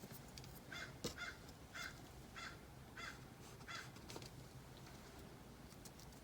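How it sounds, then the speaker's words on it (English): Crows cawing in a backyard, a series of about eight evenly spaced harsh calls at moderate distance over quiet outdoor background. "Might be getting some nature sounds from my backyard. All kinds of birds."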